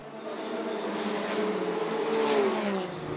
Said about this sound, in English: Now this car going in and another car going out, and that's of course the Ferrari, the AF Corsa Ferrari, going for its fuel stop.